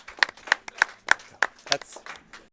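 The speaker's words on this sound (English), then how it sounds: "Clap again." A crowd applauds a Dark Souls Any% speedrunner at a live speedrun marathon event, several spaced hand claps ringing out near and loud, mixed with voices talking over them.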